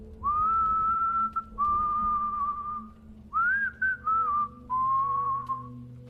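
A man whistles a slow, eerie tune in five drawn-out phrases with short pauses between, clear and close over a faint low background hum, with no talking.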